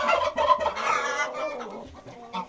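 Broody hens and chickens cluck while eating, a close, busy run of overlapping clucks and low chatter that tapers off, then a short final burst.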